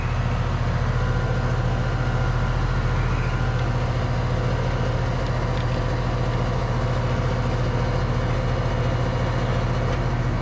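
A Goodman HVAC unit running, a steady low mechanical hum and drone with constant airflow noise, unchanging and close throughout.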